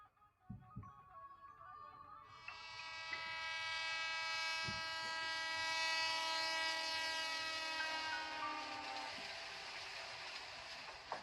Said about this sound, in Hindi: ट्रेन तेजी से आगे बढ़ते हुए कल्पा स्टेशन की ओर जा रही थी